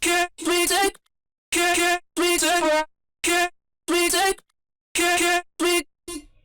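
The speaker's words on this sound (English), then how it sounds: "You could also turn on punish, which will really squash your sound" Vocal chops squashed hard by the Decapitator saturation plugin in punish mode for a future bass drop: loud, dense, harmonic bursts in short phrases separated by clean silences, with no talking.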